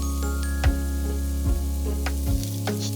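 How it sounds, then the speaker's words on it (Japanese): Fifty grams of minced meat stir-fries in a single pan, giving a bright, crackling sizzle that carries through. A spatula scrapes and knocks against the pan every second or so under a steady low hum. "ひき肉 50g を加えて炒め"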